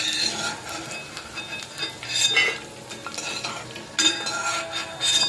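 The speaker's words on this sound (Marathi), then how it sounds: "सतत हलवत बोंबील तळायचे म्हणजे एकसारखे तळले जातात." Bombay duck fish fry in oil while being stirred, making a continuous bright sizzle with frequent scraping and clinking of a spoon against the pan, close and without speech.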